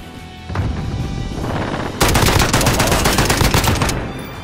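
Light machine gun fire from a video game, with scattered shots at first and then a loud, sustained rapid burst of gunfire for the last few seconds.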